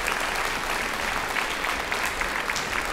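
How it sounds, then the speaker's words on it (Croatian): A large audience claps in steady, dense applause throughout, close and loud, at an outdoor music and stage show in Marija Gorica, Croatia. "Molim vas jedan veliki aplauz."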